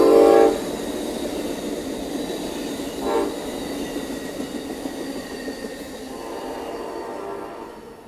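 A train rolls past through a forest at night, its steady rumble and wheel noise holding for several seconds after a loud horn blast at the start, then slowly fading.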